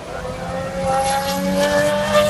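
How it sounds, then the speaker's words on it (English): Formula 1 cars lapping the Silverstone circuit during the 2014 British Grand Prix, a steady high engine whine with rising pitch sweeps as cars pass at a distance, layered over crowd and track ambience for the whole stretch. "And some of the Formula 1's going around."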